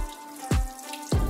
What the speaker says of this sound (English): We're gonna quickly rinse it with some cool water.